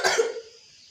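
One harsh, close cough performed on stage in a school drama, a short burst that fades quickly into silence.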